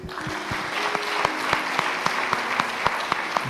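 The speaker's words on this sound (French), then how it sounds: "Super, on applaudit" Audience at a youth conference applauding steadily, a dense wash of clapping with a few sharper claps standing out and faint voices or tones underneath.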